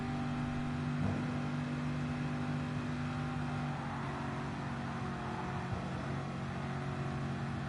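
A Chevrolet Corvette C7 engine in the racing game Gran Turismo Sport, a steady, loud drone with shifting engine tone throughout, holding near-constant revs without any talk.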